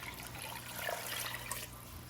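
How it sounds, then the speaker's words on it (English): Eight cups of water poured into a cooking pot on a LaNordica wood cookstove, a steady soft splashing pour lasting the whole moment, fairly quiet and heard alone. "Then we're going to add in the 8 cups of water."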